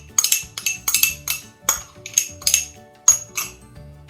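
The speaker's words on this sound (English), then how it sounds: "Scraping it all out," A utensil scrapes a yeasty mixture out of a container into a bowl of strong flour, giving a run of short metallic clinks and scrapes in an uneven rhythm, close and clear with no talking.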